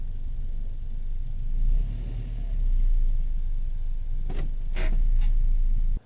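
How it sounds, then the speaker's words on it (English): A car engine rumbles low and steady from inside the moving vehicle, swelling slightly in level partway through, with a few brief higher-pitched squeaks or rattles near the end and no talking. "this is the car that I have to take"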